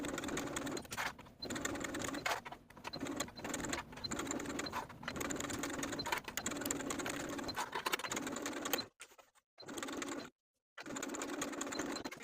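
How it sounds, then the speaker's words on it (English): A sewing machine stitches binding onto a tank top neckline in quick rattling bursts, its needle clattering rapidly. There are brief stops and a couple of short silences near the end. "Now I'll sew the binding to the neckline all the way around with a 1/4 inch seam allowance"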